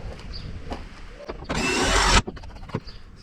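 A cordless drill winds the legs of a caravan during a jockey wheel change, giving a loud, steady whirring burst of under a second that stops abruptly amid quiet outdoor background.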